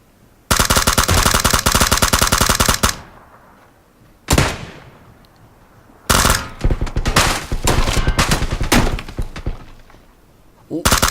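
Automatic gunfire in PUBG Battlegrounds, loud long bursts of rapid shots with gaps between, a single sharp blast in the middle and a short burst cut off at the end.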